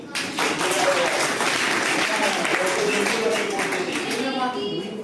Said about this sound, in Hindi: इस पर तो तालियां होनी चाहिए।